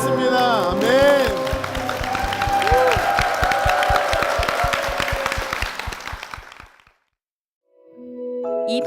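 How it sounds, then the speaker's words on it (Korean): Church congregation clapping in applause, a dense run of hand claps blended with organ-like tones and voices, fading out into silence before music resumes. "주님께 영광의 박수를 드리겠습니다"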